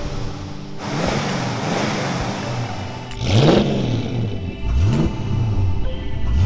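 A Pontiac GTO's engine is revved in a few sharp bursts, each climbing and falling away, with the car idling and rumbling close by between blips.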